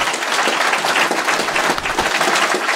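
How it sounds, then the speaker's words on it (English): A conference audience at a security event in Leeds breaks into steady, dense applause that fills the room, loud and continuous with no talking over it. "A big round of applause for Tom at the back"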